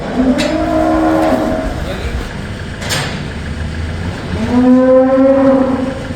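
Cattle moo on a farm where a cow has stopped eating: two long, loud, low moos, one near the start and another near the end, with faint background noise between them.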